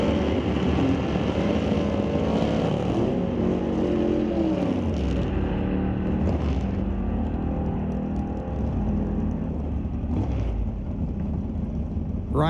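A 1966 Plymouth Satellite making a solo drag racing run at Mission Raceway Park, a loud sustained engine roar with rising and falling revs that rumbles steadily throughout.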